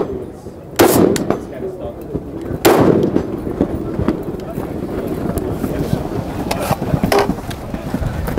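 Savage MSR 10 Precision rifle firing at steel targets downrange on an outdoor range: two sharp, loud gunshots about two seconds apart, then fainter distant reports, with someone talking over the shooting.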